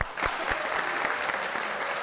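An audience bursts into brief applause during a talk show, a short, dense wash of clapping from many hands with a few sharper claps near the start.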